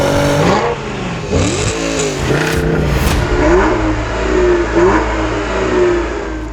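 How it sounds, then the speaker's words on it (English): A turbocharged V6 car engine revs hard several times, its pitch sweeping up and down in quick bursts, loud and close with a gruff turbocharged growl. "that may be one of the more charismatic boosted V6s, but it ain't a V8"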